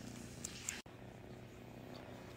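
A cat settled in a lap purrs softly and steadily in a quiet indoor room, faint and close, with a brief rustle partway through.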